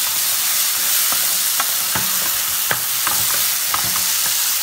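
Tomatoes sautéing in oil in a pot, with a steady hiss of frying under scattered spoon taps and scrapes from stirring, close and fairly loud, with no voices.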